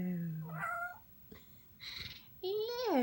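A pet cat gives several drawn-out meows, loud and close, with a pause between calls and a longer rising-falling meow at the end.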